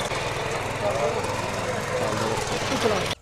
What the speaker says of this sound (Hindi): हार्ड से हार्ड जमीन में ये हमारा जो पावर वीडर है कितने अच्छे तरीके से काम कर रहा है